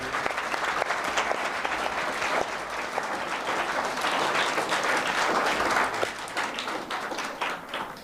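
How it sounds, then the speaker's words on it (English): An audience at an intra-school English debate competition claps for the chairman, a steady, dense round of applause that continues throughout without letting up. "So, please clap for chairman, sir."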